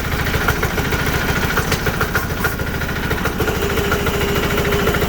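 A diesel engine, likely on a tractor, chugs in a steady, loud, rapid knocking idle throughout, with no speech over it.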